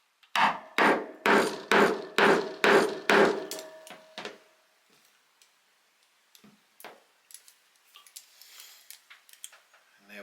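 A nylon hammer strikes a flat skull stud rivet into place with a hand tool set: six loud, evenly spaced blows close up, tapering into a few lighter taps, followed by faint scattered knocks and handling sounds.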